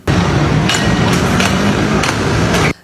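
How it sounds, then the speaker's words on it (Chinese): Baseball bats strike a sedan on a city road in an early-morning attack. A few sharp, loud bangs land at irregular intervals over a constant roar of street noise, then everything cuts off abruptly. "一大早大马路上砰砰砰敲打声不断，"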